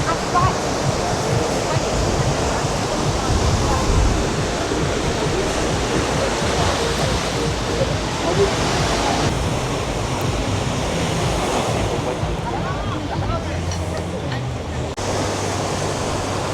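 Beach waves at Los Cristianos, Tenerife, heard as a loud continuous wash of surf mixed with rumbling wind noise, with a faint murmur of people in the background.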